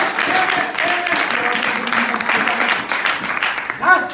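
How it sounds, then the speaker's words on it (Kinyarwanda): A Presbyterian church congregation claps for God during a sermon, a lively round of applause mixed with voices and cheering that rises and falls and swells briefly near the end. "dukomere Imana amashyi"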